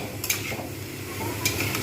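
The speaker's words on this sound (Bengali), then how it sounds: "অটোমেটিক্যালি এটা কিন্তু ভাজা হবে।" Banana stem (thorr) seasoned with salt and turmeric fries over low heat in a pan, a soft steady sizzle with a few light scrapes of a spatula against the metal.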